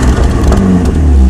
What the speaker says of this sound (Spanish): acelérale un poco.